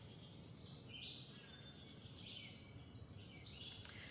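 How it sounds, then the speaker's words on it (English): Faint birds chirp and tweet outdoors on a quiet morning, soft high calls scattered over a low background hum with no voices. "Can you hear the birds?"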